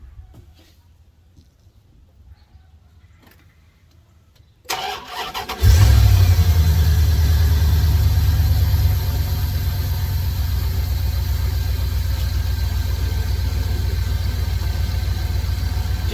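A car engine cranks briefly and catches at close range, revs up loudly for a few seconds, then settles into a steady, even idle that continues to the end after a quiet stretch of faint noise.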